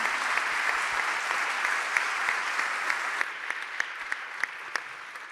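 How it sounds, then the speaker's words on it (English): A large graduation ceremony audience gives a big round of applause, a dense, sustained wash of clapping that thins toward the end, leaving a few distinct individual claps. "let's give them a very big round of applause."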